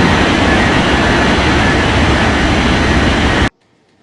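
Jet airliner engines roar loud and steady on the runway at Ngurah Rai Bali International Airport, a dense continuous blast that cuts off abruptly near the end.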